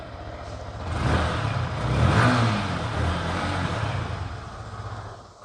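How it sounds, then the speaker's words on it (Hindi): A 2025 Yamaha R15M Monster Edition motorcycle engine revs up twice while stationary, a close, steady rumbling drone that swells in two broad waves and settles back to a sustained idle roar. "आपको एक बार इसको रेव भी करके सुना देता हूँ।"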